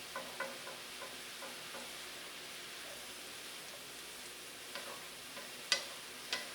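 A spatula scrapes through celery sautéing in a pot for chowder, giving a faint, steady sizzle broken by soft intermittent scrapes and a few sharper clicks.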